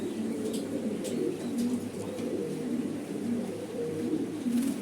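Pigeons on a pigeon farm, with hens sitting in clay nesting pots, give steady low cooing that runs throughout, close and continuous, with faint higher sounds over it.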